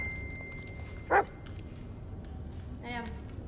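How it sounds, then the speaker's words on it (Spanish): A real dog barks in a yard, a single short bark, with a brief second yelp a moment later, both faint behind a steady background hum. "si escuchan ladridos, no son del perro del juego, son del perro del patio"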